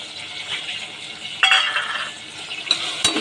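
Beans and green peas tipped into a hot oiled pot while making vegetable biryani, giving a steady close sizzle with stirring scrapes and a couple of sharper clinks of a utensil against the pot.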